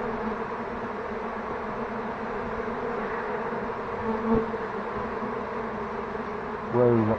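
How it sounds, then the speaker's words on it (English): Honeybees from a nest being removed from a house slated for demolition hum in a steady, dense buzz throughout, with a brief thump near the middle and a louder rustle at the end. "Thank goodness they're gentle bees that are really not taking too much umbrage at this"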